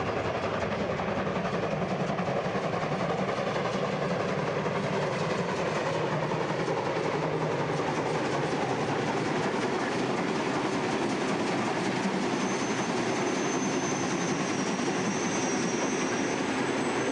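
A steam train works under full steam up the steep Rennsteig gradients toward Oberhof, a continuous loud, dense rumble and chuff of engine and rolling wagons that holds steady throughout with no voices.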